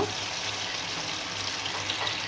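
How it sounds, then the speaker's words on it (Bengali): Taro stolon fritters coated in rice flour batter fry in hot oil, giving a steady, close hiss and crackle that runs without a break for a couple of seconds. "কচুর বড়াগুলো আমি ভেজে নিচ্ছি একটু মচমচো করে"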